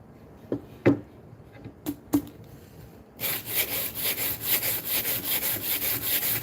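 A compact power sander starts up and runs against its workpiece in a rough, pulsing rasp, preceded by a few sharp knocks and taps.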